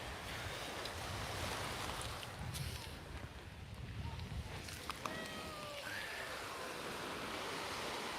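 Ocean surf washes onto a beach in a continuous broad rush, with wind buffeting the microphone and a faint boat or distant sound partway through.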